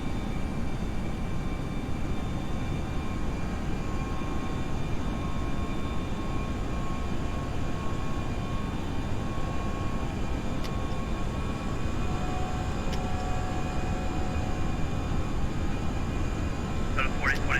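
Steady, loud jet engine roar from an FSLabs A320 during a go-around in a flight simulator game, a continuous broadband rumble with faint tonal whine above it, holding level throughout with no pauses.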